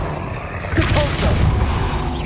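Depulso spell cast in Hogwarts Legacy: a sudden forceful whoosh and bang that bursts in partway through, followed by crackling, ringing game effects over a rumbling background.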